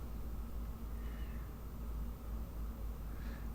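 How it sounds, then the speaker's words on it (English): A cat meows faintly a couple of times over a steady low background hum, with no talk. "Oh, so you do have a cat."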